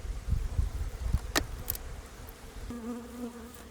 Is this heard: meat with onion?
no